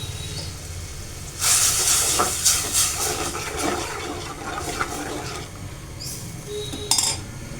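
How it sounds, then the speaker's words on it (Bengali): Spices fry in a pan for a Bengali fish curry, a steady hissing sizzle that swells loudly after a quiet start, with occasional metal clinks of a stirring utensil and no talk. "এই তো মশলাগুলো দিয়ে এখন কষিয়ে নিচ্ছি।"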